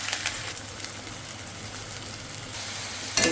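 Onions, green chillies, ginger-garlic paste and spices fry in hot oil in a pan, giving a soft, steady sizzle with a brief louder crackle at the end.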